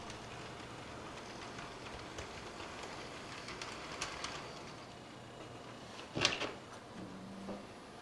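A model train shoves gondola cars onto an outbound track, a low steady rolling hum with a single sharp clack of couplers near the end.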